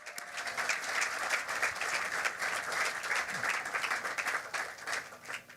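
A crowd at a university ballpark topping-out ceremony claps for the construction workers, a sustained, even wash of applause heard from some distance and fairly soft, with no talking over it.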